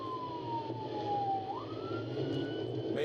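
A police car siren wails during a traffic stop, one loud close tone gliding down and then climbing again over a rumbling engine, with no talking.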